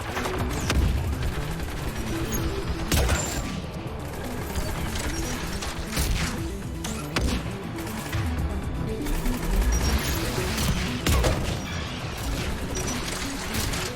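Automated turrets fire in the Mass Effect 3 combat game, sharp gunfire bursts crackling among clanking mechanical noise and crashes, dense and fairly loud throughout with no voices.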